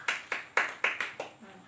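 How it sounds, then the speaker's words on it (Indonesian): Group of people clapping hands for a woman at a health and nutrition community meeting, about seven distinct, evenly spaced claps fading toward the end, moderately quiet. "kita tepuk tangan dulu untuk ibu"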